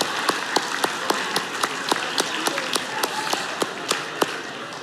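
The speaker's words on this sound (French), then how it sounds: "On les applaudit!" A small audience claps for the women present, with a few sharp, distinct claps standing out in a loose rhythm over a soft wash of background, lasting a few seconds.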